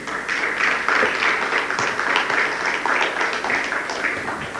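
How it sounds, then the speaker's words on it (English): A large audience applauds a speaker at a formal event, a dense, steady wash of many hands clapping that holds at full strength throughout with no voices over it. "A big round of applause to His Excellency Dr. Wilbur Otichilo."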